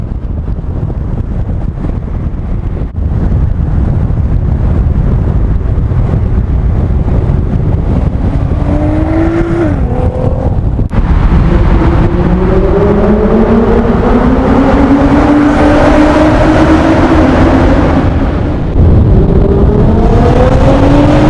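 A Nissan GT-R with a new loud exhaust drives on the road, its engine roaring loud and close through rising, revving shifts between gears, with heavy wind buffeting the microphone and no talking.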